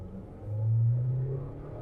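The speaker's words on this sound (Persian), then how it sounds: "اگه آماده این، منم آماده هستم که یه 0 تا 100 رو با هم اندازه گیری کنیم" A 2022 Changan CS35 Plus launching from 0 to 100 in sport mode, its engine swelling into a strong low revving roar that peaks then eases slightly, heard from inside the car with no talk.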